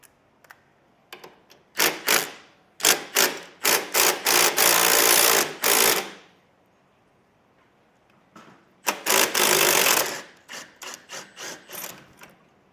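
A socket ratchet works a 19 mm bolt out of a motorcycle's rear suspension, giving a series of sharp, close clicks and short bursts of rapid ratcheting, first spaced then continuous, pausing, then another run and a few spaced clicks.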